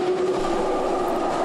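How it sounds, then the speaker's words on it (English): A Canadian Pacific-led freight train rolls past close by, a loud continuous rumble of wheels and cars with a steady metallic ring, unbroken for the whole stretch. "after the Canadian Pacific-led train got by us"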